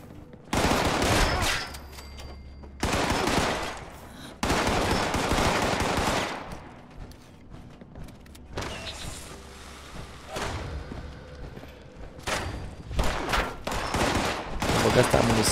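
Bursts of rapid automatic gunfire in the Fallout 76 video game, loud and close, come in several long volleys separated by brief pauses, with quieter shots and thuds between them.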